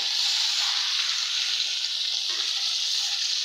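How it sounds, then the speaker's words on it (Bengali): Bata fish frying in hot oil, a dense, even sizzle that holds steady throughout, close and fairly loud, with no talking. "ওই যে ভাজা নিতেছি"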